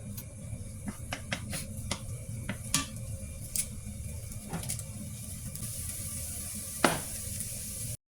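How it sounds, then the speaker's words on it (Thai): Garlic sizzles and crackles steadily in hot oil, with scattered sharp pops and a few utensil clinks, close up and without speech. "ใส่กระเทียมลงไปเจียวให้หอมเลยจ้ะ"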